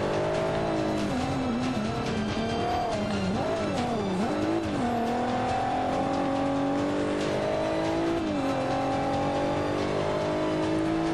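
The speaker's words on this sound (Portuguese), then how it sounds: "O carro realmente anda muito, cara." A race car in Forza Motorsport 5 on Xbox One accelerating hard, its engine rising and falling through gear shifts with tire squeal, loud and continuous throughout.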